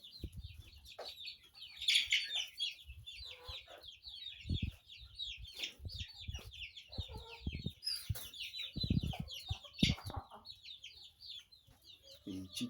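Chickens cluck and call in a poultry yard among other mixed fowl such as turkeys, with a dense, continuous chatter of many nearby birds and louder clucks rising and falling throughout.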